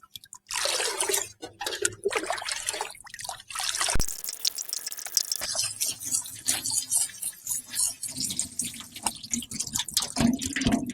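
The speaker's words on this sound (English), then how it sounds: "The next thing I'm going to do is very gently try and rinse off the soil." Water from a tap or hose rinses soil off an aloe vera root ball, a close, steady splashing and trickling stream with a sharp break midway, and no voices.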